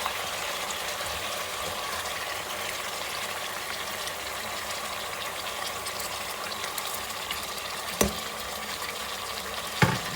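Mutton karahi frying in oil with tomatoes tossed in, giving a steady close-up sizzle and hiss throughout, broken by two sharp spatters near the end.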